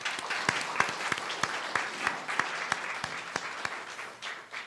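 An audience applauding spelling bee students at a national championship, steady clapping from a crowd, with a few louder individual claps standing out throughout.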